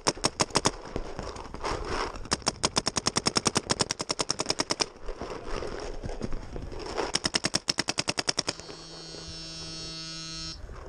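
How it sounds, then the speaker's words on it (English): Rapid bursts of paintball marker fire during outdoor play at a paintball field, fast rattling volleys in several runs that end in a steady electronic hum. "No one? I'll shoot over there."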